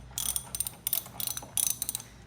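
A ratchet wrench fitted with an E14 socket clicks in several quick bursts while loosening the strap brace during an intake manifold swap, close and crisp with no talking.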